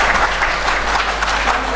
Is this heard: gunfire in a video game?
no